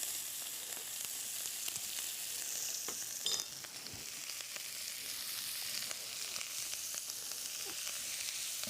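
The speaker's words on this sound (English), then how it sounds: "I'm going to add a little bit of olive oil at this point, and then a couple of little teaspoons of butter" Olive oil and a couple of teaspoons of butter sizzle in a pan on a stovetop, a soft continuous hiss with faint crackles and one brief clink of a utensil, quiet and steady with no talking.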